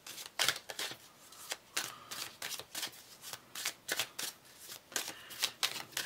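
Tarot cards are shuffled by hand in quick, irregular bursts of riffling and sliding, close and crisp, with short pauses between flurries and no talk.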